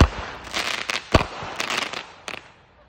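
Fireworks bursting outdoors around the Fourth of July, a rapid string of sharp cracking explosions in an irregular cluster, loud and close, tapering off toward the end.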